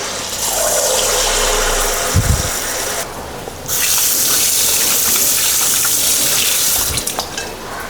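Wheat bonda batter dropped into hot oil, giving a loud, continuous sizzling hiss with a couple of low thumps as pieces go in, and the frying surging again partway through.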